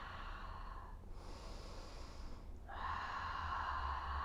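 Deep, steady breathing during a slow, cozy stretching routine, with airy inhales and exhales that swell and fade; a brief quieter gap in the middle, then fuller breaths, close and alone without talk.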